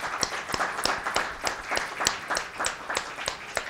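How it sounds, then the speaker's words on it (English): Applause at a seminar for a race and policy series, with a small audience clapping in a fairly regular rhythm of distinct claps, close and moderately loud. "We have to give you one round of applause."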